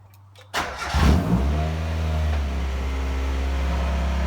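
A Honda Civic or Mazda Miata with a manual transmission cranks briefly in a garage, catches with a loud burst, then settles into a steady, close idle.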